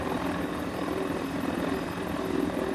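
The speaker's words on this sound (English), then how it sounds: "I do a lot of flights like this, but not too often in helicopters" A Mini 500 helicopter in Microsoft Flight Simulator flies along the coast near Kiama, Australia, its rotor and engine making a steady loud droning whir with fast rhythmic chop, constant throughout and with no talk.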